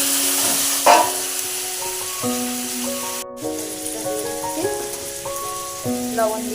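Shrimp frying in a pan with cumin tempering gives a continuous broad sizzle that runs beneath prominent melodic background music, with an occasional clink near the start.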